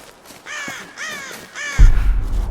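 A crow caws three times in the Tomb Raider video game. The harsh calls are spaced evenly and clearly, and a dull low thump and rumble follows near the end.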